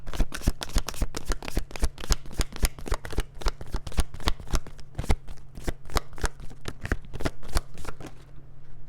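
Tarot cards are shuffled in a long, steady run of quick crisp riffling flicks, close and fairly loud over a low steady hum, with no talk.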